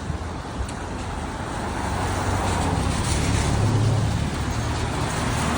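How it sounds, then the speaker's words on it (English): Street traffic in Caserta, Italy, heard from the roadside as a dense, continuous rumble of cars and heavier vehicles that swells slightly as vehicles pass close by. "Traffic isn't too bad."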